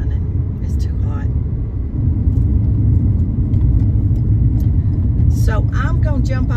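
A car engine idles with a steady low rumble throughout, close and continuous, while a person speaks over it.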